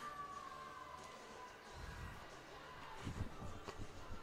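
Siren at an indoor handball arena during a Serie A match, a faint falling tone at the start under distant crowd rumble and echoing hall noise.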